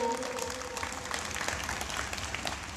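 An audience at a public speech claps in a brief burst, a dense patter of many hands right after a voice trails off at the start.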